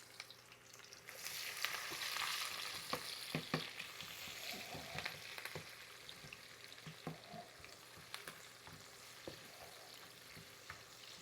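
Fresh garden thyme, pepper and garlic fry in a pan over moderate heat for jerk pork, giving a steady close sizzle broken by sharp stirring scrapes and clicks, with no voices.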